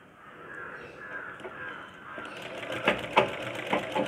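Sewing machine stitching a blouse shoulder seam, starting quietly and then running as a close, rapid mechanical clatter with sharp repeated ticks.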